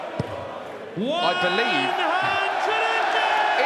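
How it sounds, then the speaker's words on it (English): Darts crowd at a European Tour quarter-final suddenly bursting into a loud sustained sung chant, filling the hall after a brief quieter moment, with a commentator's voice heard near the start. "the crowd have literally just burst into a chorus of "We want to see the grandma.""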